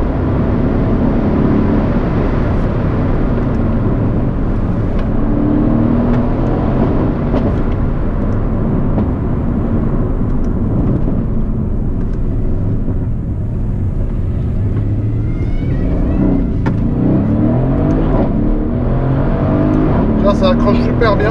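Mercedes C63 AMG engine pulling hard on a winding road, a loud sustained roar heard from inside the car that rises and falls with acceleration, while someone talks over it.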